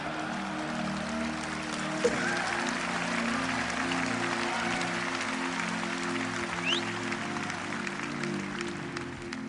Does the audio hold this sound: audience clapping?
yes